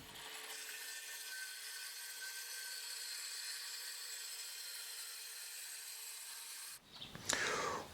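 A Bosch UniversalCirc 18V-53 cordless circular saw whines steadily while ripping lengthwise through a 45 mm thick plank for several seconds, then stops abruptly, followed by a few clunks and rustles.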